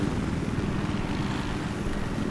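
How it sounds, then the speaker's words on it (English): Helicopter from an 8v8 video game match on the Canals map, a steady, loud rotor and engine drone filling the whole stretch with no pauses, as if passing close overhead. "Oh, oh chopper's on me, Para."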